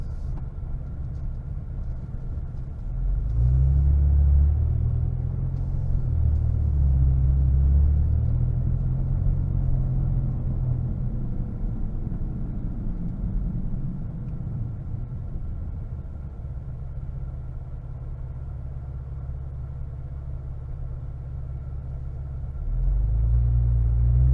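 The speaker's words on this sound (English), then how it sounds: "the V6 has a really nice like little grumble to it when you drive around" A 2011 Saab 9-5 Aero Turbo6 2.8T XWD Stage 1 V6 rumbling while driving, a low steady grumble from inside the car that swells louder for stretches, then eases, with no talk.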